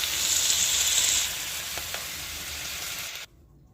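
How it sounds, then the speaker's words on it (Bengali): Beans and vegetables sizzle in oil in a kadai, a steady, loud hiss that eases slightly partway through, with a couple of faint clicks before it cuts off abruptly. "একে একে আমি সব সবজিগুলো খুব ভালো করে ভেজে নিয়েছি"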